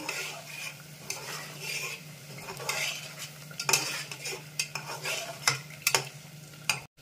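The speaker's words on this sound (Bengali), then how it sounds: "এটা কিছুটা সময় কষিয়ে নিচ্ছি।" A spoon scrapes and clatters against a pan as spicy Bengali mutton curry masala is stirred and sautéed, irregular metallic scrapes over a faint steady sizzle and low hum.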